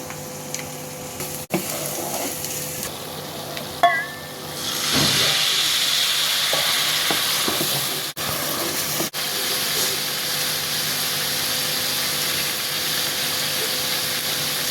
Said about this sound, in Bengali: সুন্দর করে কষাই নিন কষা